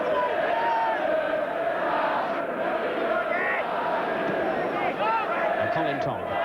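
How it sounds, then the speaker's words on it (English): Dense, steady roar of a large football crowd at Nottingham Forest versus Manchester City, a continuous wall of massed voices with scattered shouts rising above it throughout. "a good atmosphere too, a fair-sized crowd"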